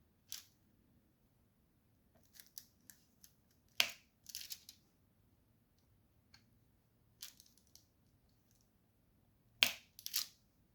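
Scattered sharp clicks and pops from diamond painting drills being pressed onto the canvas, sparse and irregular, close and fairly quiet, with a couple of louder snaps and no talking.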